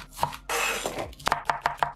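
Tomato and cucumber pieces are tossed with salt in a mixing bowl, giving a burst of wet rustling followed by a quick run of sharp clinks against the bowl, close up.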